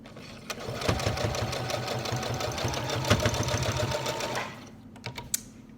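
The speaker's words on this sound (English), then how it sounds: "Just sew over the folds." A sewing machine stitches over folded fabric in a fast, even mechanical run lasting several seconds, then stops, followed by a few faint clicks and handling sounds.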